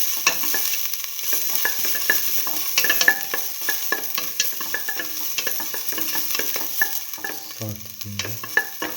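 Ginger and salt fry in a pan, a steady close sizzle broken by frequent sharp clicks and scrapes of a utensil stirring, with a brief low knock near the end.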